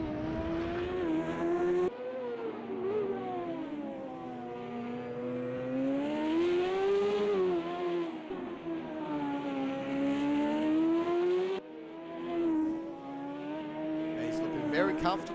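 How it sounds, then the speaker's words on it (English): Onboard a Lola Indy car, the number 6 Newman-Haas entry at the 1995 CART round in Long Beach, held at full throttle: a loud, continuous high-pitched engine wail that rises and dips with each gear change and corner. "Full throttle all the way."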